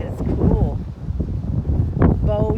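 Strong wind buffets the microphone at the top of a reservoir near Navajo Lake, New Mexico. Someone talks over steady rumbling gusts.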